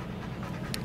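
A dog pants steadily at close range, a quick breathy rhythm filling the brief moment with no other clear sounds.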